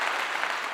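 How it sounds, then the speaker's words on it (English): A short burst of dense clapping, steady and fairly loud, heard for under a second at the start of a podcast episode. "Round of applause"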